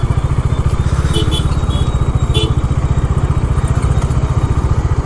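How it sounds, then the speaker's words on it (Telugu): A new KTM 200cc motorcycle engine runs steadily nearby, throbbing with a fast, even pulse that stays loud and constant throughout, with faint clatter on top. "కేటీఎం 200cc కొత్త బైక్"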